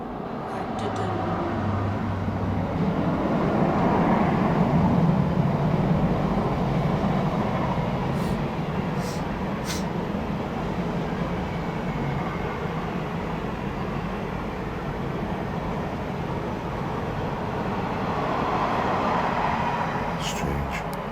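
Steady loud rumble of a train passing near an old mill, continuous roar with rattling rail noise for the whole stretch and no talk.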